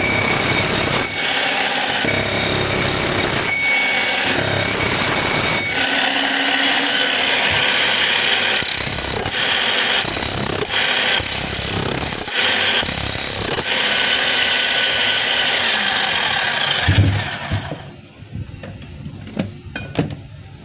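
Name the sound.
DeWalt D25901 10 kg demolition jack hammer running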